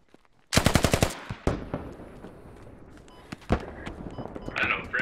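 Video game gunfire opens with a loud rapid burst of automatic shots, followed by scattered single shots and a sharp crack further on, with faint background game sounds.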